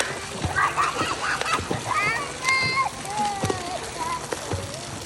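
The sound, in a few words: children splashing while swimming in a pool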